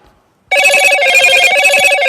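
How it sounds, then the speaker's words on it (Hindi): A telephone rings loudly and close, starting abruptly after a short quiet moment and sounding as a continuous rapid bell-like trill through the rest of the clip. "मैं यहाँ पे एक फोन आ रहा है"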